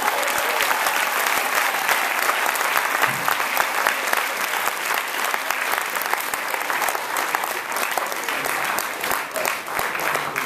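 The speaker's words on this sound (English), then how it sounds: "Please give them a round of applause." A concert audience at the Stein Auditorium in New Delhi gives a Capital City Minstrels performance a long, steady round of applause, dense clapping sustained at an even level for about ten seconds.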